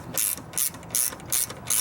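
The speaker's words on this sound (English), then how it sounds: "these are 11mm. Take our ratcheting." A ratcheting wrench clicks in four quick even bursts, close and crisp, while loosening 11mm exhaust manifold bolts on a Cummins 4BT/6BT diesel engine.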